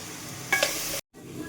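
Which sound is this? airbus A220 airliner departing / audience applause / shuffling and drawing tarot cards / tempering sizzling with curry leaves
tempering sizzling with curry leaves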